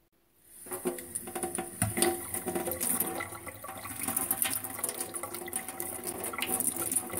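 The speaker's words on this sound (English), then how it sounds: "Notice that the catheter has filled up with water" Water runs steadily into a condom catheter attached to a urinary drainage bag, a continuous close rushing and trickling that starts after a brief silence and keeps going, with no speech.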